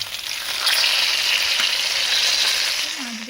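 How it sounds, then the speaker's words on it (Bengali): Pieces of rohu fish frying in oil in a pan, a steady close sizzle that holds loud and even throughout with no talking. "দেখো একে একে লাল লাল করে ভেজে নিচ্ছি"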